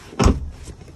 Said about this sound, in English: I'll show you how to put these seats up